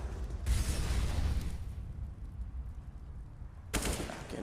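Gunfire in a Counter-Strike match on the Train map, with an AWP sniper rifle in play: a loud burst of shot noise at the start, a calmer stretch of game ambience, then another sharp blast near the end.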